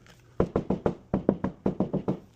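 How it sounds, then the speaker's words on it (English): Eleven firm knocks on drywall to find a stud, rapped in quick groups of three or four with short pauses between, close and clear with no talking. "Then I like to knock. So I knock right here."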